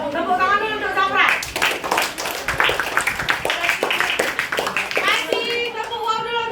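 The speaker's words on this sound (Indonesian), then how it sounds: "Tepuk tangan dulu untuk Zafran." Children clapping together in a classroom, a burst of quick, dense hand claps lasting a few seconds, close and lively, with children's and an adult's voices talking before and after.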